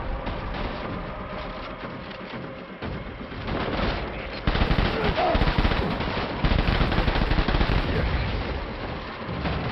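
Sustained automatic machine gun fire in the video game Death Stranding, loud, dense bursts that pick up and intensify in the second half, with no talk over it.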